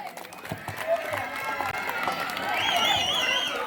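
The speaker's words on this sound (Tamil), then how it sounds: "நடனமாக ஆடி காட்டிய 9ஆம் வகுப்பு மாணவர்களை கைத்தட்டி உற்சாகப்படுத்த கேட்டுக்கொள்கிறேன்" School annual day audience at GHS Valayamadevi applauds ninth-grade students after their dance, a steady crowd wash of clapping and cheering that swells toward the end, with voices mixed in.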